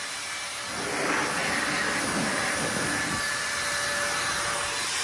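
Air Force Blaster SideKick air dryer blowing, a loud, steady broadband rush of air that swells up after a quiet start and holds constant to the end.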